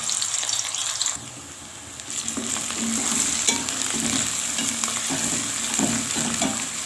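Ground onion, garlic and green chillies fry in desi ghee in a pan, giving a steady close sizzle with intermittent stirring scrapes and clinks throughout.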